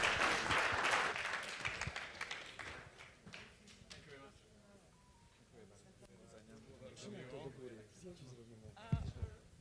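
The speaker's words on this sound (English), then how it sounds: "Guys, one more round of applause for this group." Applause from a congress audience in Miami, loud clapping at the start that fades away, followed by quieter room noise with some talking and movement.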